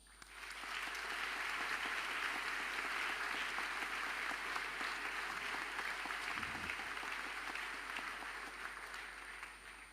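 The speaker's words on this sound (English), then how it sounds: "please join me in giving a round of applause for all students, teachers, parents," Sustained applause from a large crowd at a school commencement ceremony, dense and even for nearly ten seconds over a steady low hum, easing slightly at the very end.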